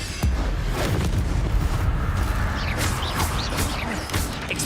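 In Hogwarts Legacy, a cast Incendio fire spell lets out a loud roaring, crackling burst with a low boom at the start, then whooshing, sizzling flares and crackles that continue for several seconds.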